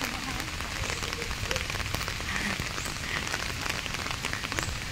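Rain falls steadily in a park, a dense continuous patter on surfaces with faint distant voices beneath.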